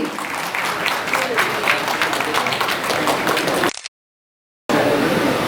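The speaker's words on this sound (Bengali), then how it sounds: "আমি একটু জোরে করতালি চাইবো আপনাদের সকলের কাছে।" A crowd claps loudly and continuously, the applause cutting out briefly into silence before resuming just as strongly.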